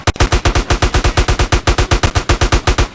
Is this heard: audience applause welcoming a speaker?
no